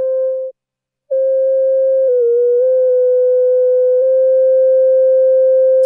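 Moog Matriarch synthesizer oscillator holding a steady, pure sine tone that cuts out briefly, then returns, shifting slightly in pitch as it is tuned, loud and alone.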